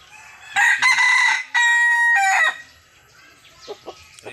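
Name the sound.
rooster crowing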